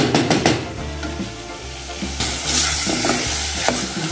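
Garlic, chili, pepper and cumin frying in a pan while being stirred: loud, steady sizzling up close, with scraping spoon strokes and light clinks of the pan.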